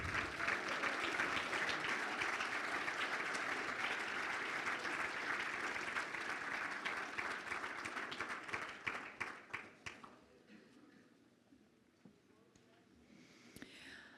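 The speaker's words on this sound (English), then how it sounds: "Let's give them one more final round of applause." Audience applause at the Columbus Division of Fire's annual awards banquet. Sustained, dense clapping fills the room for about ten seconds, then thins to scattered claps and dies away.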